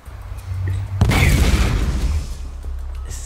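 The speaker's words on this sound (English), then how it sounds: "I think a grenade went off up there." A grenade goes off in DayZ, a single loud, deep blast bursting out suddenly and rumbling away over a couple of seconds against low background noise.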